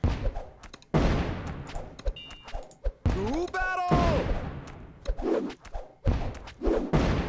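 Rockets fire in the Kingdom Rush tower-defense game as a run of booming blasts and thuds with a rising whistling streak partway through, loud game effects in quick succession.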